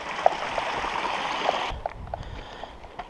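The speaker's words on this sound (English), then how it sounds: "babbling brook" A babbling brook runs along a forest trail in Algonquin Park, its steady trickling wash filling the air and then dropping to a quieter, softer gurgle partway through.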